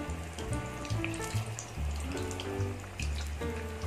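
Food sizzles and fries in a hot pan, a steady crackling hiss that runs throughout beneath tonal background music.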